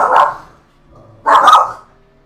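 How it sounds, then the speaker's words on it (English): Dogs bark in two loud, close bursts separated by a short pause, heard alone in a lull between GT3 race commentary. "the dogs are coming"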